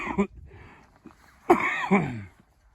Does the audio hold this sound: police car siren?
no